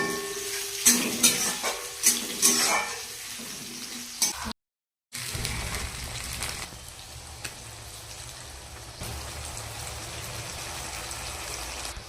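Nigella seeds, cumin and a pinch of asafoetida frying in hot oil in a kadai, a continuous soft sizzle with light stirring clinks, briefly cut off and then resuming steadily, no talk.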